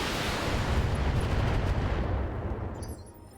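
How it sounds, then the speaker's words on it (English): Heavy, continuous rumbling weapon fire aimed at a turret in a sci-fi shooter game, dense and loud for about three seconds before tapering off, with no voices over it. "I guess we're going to shoot at this stupid turret."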